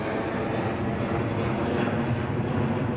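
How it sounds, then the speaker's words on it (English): A fixed-wing airplane passing overhead at a Caterham 60th anniversary festival, a loud, steady engine drone that fills the whole stretch without a break. "Wait for the plane to go"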